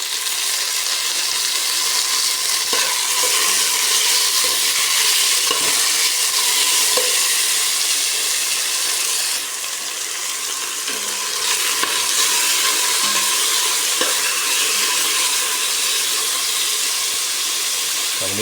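Squid and tomatoes stir-fry in a hot pan with a bright, constant sizzle, punctuated by the soft scrape of a spatula, with no talking.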